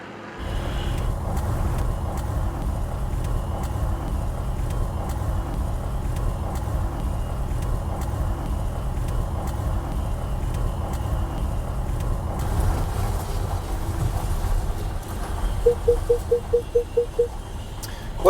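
Steady in-cab road noise and low engine rumble from a Vauxhall Vivaro van cruising at speed, a continuous loud drone with a short run of regular beeps near the end.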